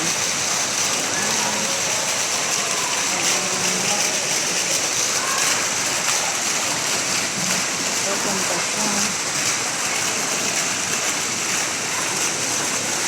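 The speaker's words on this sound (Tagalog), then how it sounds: "mga tubig fountain po nila dito" Hotel water fountain in Jeddah giving a steady, close wash of splashing, rain-like water that runs the whole time, with people talking over it now and then.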